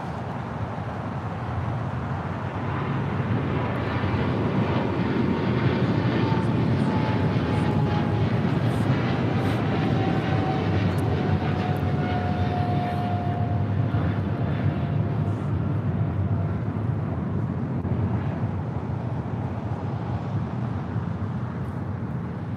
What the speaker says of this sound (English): we have a China Cargo Airlines 777 freighter now rolling down at 25 right